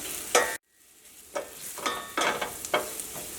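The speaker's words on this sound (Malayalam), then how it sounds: "ഈ മഞ്ഞൾപ്പൊടി അത് കിടന്നിട്ട് നന്നായിട്ട് മുരിയണം." Turmeric powder frying in hot oil for a Kerala rava roll snack, with a soft steady sizzle broken by several scraping stirs of a spoon in the pan. Close up, with a brief hush near the start and no voices.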